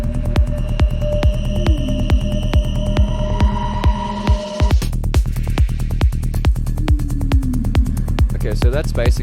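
A psytrance track plays back with a steady pumping kick and layered percussion that builds, over sustained tonal synth lines and a sweep. The beat stays loud and regular throughout.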